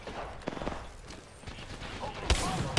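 Gunfire in the New World video game, scattered shots and short bursts at moderate distance with a louder crack near the end, while a voice talks over it.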